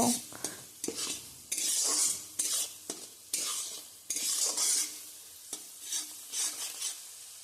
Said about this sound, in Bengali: হলুদ আর লবণটা দেওয়া হয়ে গেলে আবারও আমি সব কিছুকে ভালোভাবে মিশিয়ে নেব